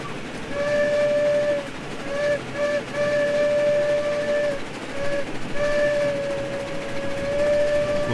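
In the Railroads Online game, a steam locomotive whistle sounds over a steady rumble of rolling train noise, blown in a pattern of long and short blasts that are loud and near.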